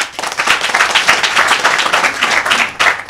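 Audience applause at a press conference in Dar es Salaam, a dense, steady wash of many hands clapping, close and loud throughout with no voices over it.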